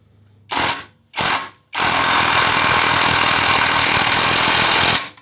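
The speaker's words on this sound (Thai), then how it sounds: "ขันแบบยาวๆขันออกนะครับ" Thakitec 16V 230 Nm cordless impact wrench loosening a bolt, two short rattling bursts followed by a long, loud, continuous hammering run, very close.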